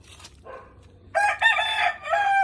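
Chickens in a backyard coop, a brief cluck or two followed by a rooster crowing loudly and close in a long drawn-out call, with no talking.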